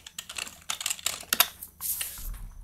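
Quick typing of a command on a computer keyboard, a close, fairly loud flurry of crisp key clacks over a couple of seconds, ending with a heavier keystroke.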